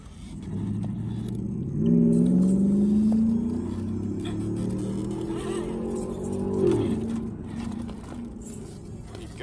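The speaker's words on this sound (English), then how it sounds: "You gotta love people with like loud exhausts, huh?" A car with a loud exhaust rumbles past nearby, its engine note rising and falling as it goes by over several seconds, with a faint high whine in the background.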